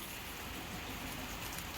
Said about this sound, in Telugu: ఇప్పుడు మంచిగా వర్షం పడుతుంది